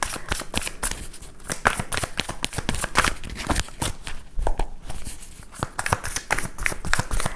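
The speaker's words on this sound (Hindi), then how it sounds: "शफल करते हैं पहले।" Tarot cards being shuffled by hand, a rapid run of crisp, close riffling and slapping card sounds in uneven bursts, with no talking.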